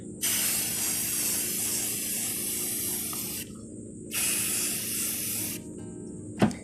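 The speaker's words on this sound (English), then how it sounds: "I am back outside for my second coat." A spray paint can hisses outdoors in two long, steady bursts with a short pause between, followed by a brief rattle and a sharp click.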